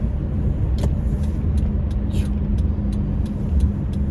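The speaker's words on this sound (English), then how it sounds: "lot of traffic on this road today" Steady road traffic rumbles past at close range, cars going by one after another with a continuous low drone and a brief hiss of air brakes, no talking.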